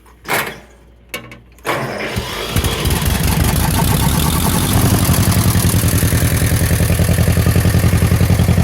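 An old John Deere MT tractor engine, run on a little choke, starts after a few sharp clicks, then settles into a loud, close, rough, steadily pulsing idle that carries on alone.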